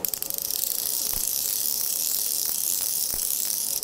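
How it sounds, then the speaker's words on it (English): A Hardy Ultradisc fly reel gives a fast, fine ratcheting click as line is wound in, a steady close buzz of tiny clicks with a few sharper ticks and no voices. "When you're retrieving a line on the fly reel, it sounds like this."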